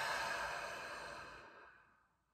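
One slow, deep exhale through the mouth, close and breathy, fading gradually into silence during a calm breathing exercise.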